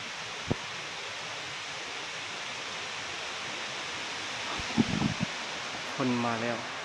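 Rain falls outdoors in rural backcountry as a steady, broad hiss throughout. Scattered knocks and a brief human voice break through near the end.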